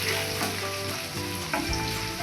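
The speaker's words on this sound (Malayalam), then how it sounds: "ഇത്രയും നമുക്ക് പാനിലേക്ക് ഇട്ടിട്ട് നന്നായിട്ടൊന്ന് വഴറ്റി കൊടുക്കാം" Onions sautéing in a pan for a Kerala chickpea curry, with a loud, close, continuous sizzle and occasional stirring scrapes.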